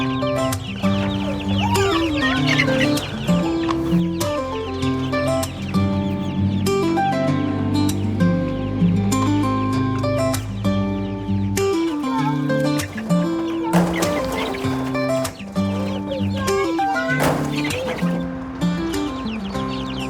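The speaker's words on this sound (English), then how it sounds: "The baby chicks that I was just feeding are currently 6 weeks old almost" Six-week-old baby chicks cluck and peep almost nonstop, many overlapping calls in quick irregular bursts, close and fairly loud.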